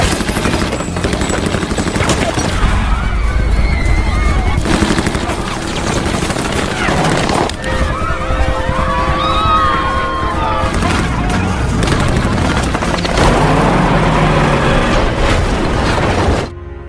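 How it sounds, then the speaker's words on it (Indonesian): Gunfire sprayed from a patrol car into a residential neighborhood in an action film, loud and dense, with bursts, booms and explosions layered over a continuous soundtrack bed throughout. "Kemudian mereka menembaki warga Amerika di sana dengan membabi buta menggunakan mobil itu."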